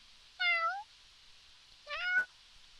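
A person's voice imitates a cat meowing: two short, rising-then-falling meows separated by a pause, quiet and alone with no other sound around them.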